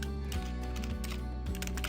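Quick, light typing on a computer keyboard, with soft key clicks over a steady tonal hum at low, even volume.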